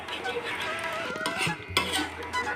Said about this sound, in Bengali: এবার একটু নেড়ে দেবো ভালো করে